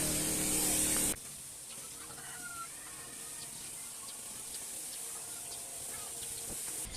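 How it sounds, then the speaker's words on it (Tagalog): A sprayer gives one loud, steady hiss of fungicide onto chili seedlings in plastic cups, lasting about a second before it cuts off, leaving a faint outdoor background. "Mag-spray tayo ngayon ng fungicide sa tanim nating sili"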